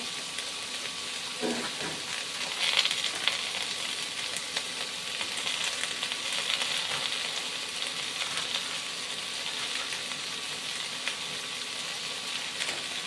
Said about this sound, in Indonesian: Nah ini kita tumis-tumis.